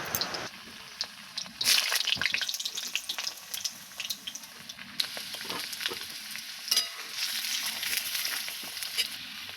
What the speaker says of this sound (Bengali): তো এখানে এবার আমি আলুগুলো ভেজে নেব।